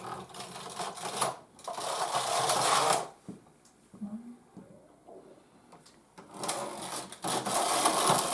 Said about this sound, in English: pull it forward to pull out my pattern stitches, and knit 2 rows in my secondary color